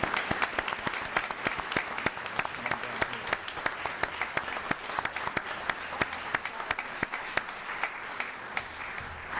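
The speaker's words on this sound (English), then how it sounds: "And a good round of applause for all the contestants." Applause for contest winners at a city council meeting, a steady wash of many hands clapping in the room, continuous and moderately loud without a break.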